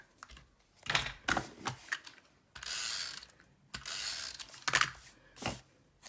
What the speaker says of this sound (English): I'm using the tailored tag punch. I'm going to insert it on the end like this and just cut a little banner.